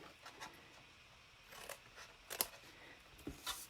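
Scissors snip a paper tab at an angle while making a Halloween designer-paper treat bag: a few quick, faint, crisp cuts scattered over a quiet room, with no talking.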